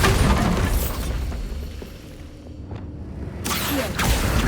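A Bombarda blasting spell exploding in Hogwarts Legacy, a loud booming burst with crackling debris that fades to a rumble, then another surge of blast noise near the end, close and heavy.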